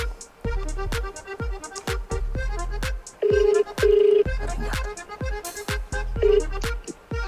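A phone is dialed with a rapid series of sharp keypad tones, followed by several long ringback tones; no one speaks over it.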